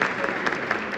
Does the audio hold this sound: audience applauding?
yes